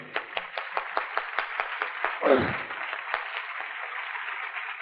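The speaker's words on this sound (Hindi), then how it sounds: "हम जोर से तालियां बजा करके श्री द्विवेदी का स्वागत करेंगे" An audience claps in slow, even unison to welcome Shri Dwivedi at a 1993 Navratri Sadhana Shivir gathering, about twenty regular claps with a brief louder burst midway, then fading into soft scattered clapping.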